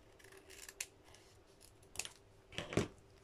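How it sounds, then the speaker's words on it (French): Scissors cut scrapbooking paper in a few separate crisp snips, close and fairly quiet, with the last cut the loudest. "Je vais couper ici."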